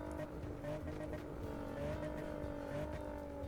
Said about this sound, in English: by the looks of it, it's got its own engine sound